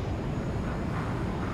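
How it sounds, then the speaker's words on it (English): An enemy jet passing over a base in a video game, a steady roaring engine rumble that holds loud and even throughout. "Enemy jet over base."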